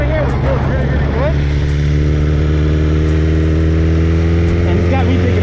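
A BMW S1000RR motorcycle with a GP shifter rides along, its engine holding a steady, loud harmonic drone with brief rises and dips as gears change smoothly, steady wind rush beneath.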